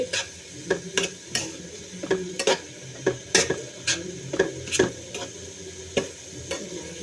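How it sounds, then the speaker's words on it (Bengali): Water spinach (kalmi shak) being stirred in a frying pan, a utensil scraping and clacking against the metal in irregular sharp strokes over a faint, low sizzle, close by with no talking. "এসে ভালোভাবে নেড়ে দিচ্ছি।"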